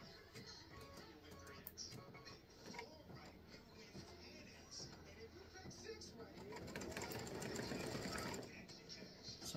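An embroidery machine stitches eyes onto a tic tac toe game piece, giving a quiet, rapid, rhythmic mechanical chatter that swells slightly toward the end, with a voice faintly in the background.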